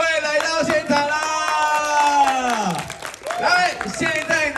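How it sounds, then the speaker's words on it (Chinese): At a Taichung tour Q&A event, an audience claps and cheers to welcome four guests onstage, the applause and shouts running under a loud amplified voice. "尖叫掌声欢迎四位来到现场啦"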